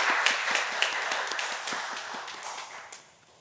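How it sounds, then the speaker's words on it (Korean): An audience at a missionary award ceremony gives a round of applause, dense steady clapping that fades out toward the end, with no talk over it. "우리 부부님들께 큰 박수 보내주시기 바랍니다"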